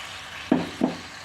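Coarsely ground onion paste frying in oil for a chicken curry, a steady low sizzle with two soft stirring scrapes close together, no talking.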